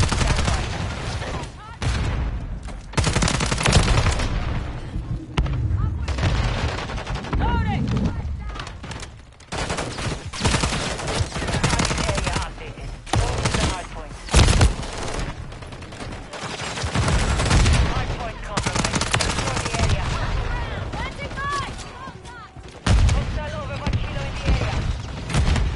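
Gunfire in the Call of Duty Modern Warfare 3 video game: dense bursts of automatic fire and shots rattle continuously through the whole stretch, loud and close, with voices talking over parts of it.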